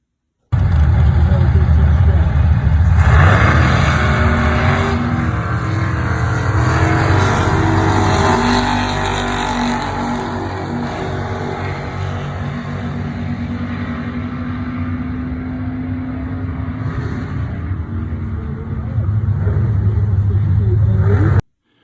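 Drag race cars in an elimination round roar loudly and continuously, engines swelling at the start and again near the end, with a voice talking over the noise.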